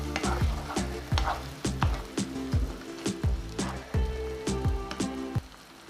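Masala for an Odia fish curry fries in a pan, with a steady sizzle under repeated rhythmic scrapes and taps of the spatula, close and fairly quiet without talk.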